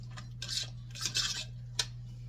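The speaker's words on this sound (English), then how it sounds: "what I'm doing is just chopping up some of those big pieces that I see" A utensil chops apple pieces in a cooking pot for an old-fashioned apple stack cake, giving a few close scraping clinks and taps in quick succession over a steady low hum.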